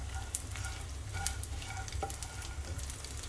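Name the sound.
edible gum (gond) frying in hot ghee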